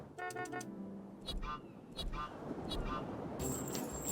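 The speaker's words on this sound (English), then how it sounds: "All we had to do here is honk any at all during the honk part" A car horn honks in short bursts in the video game What the Car?, a few quick toots set against game music, with a voice talking over part of it.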